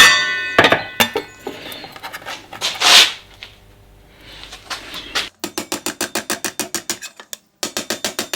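A metal repair panel for a BMW E30 325i is hammered over a dolly. Irregular knocks and scrapes come first, then a rapid, even series of sharp metallic taps close by.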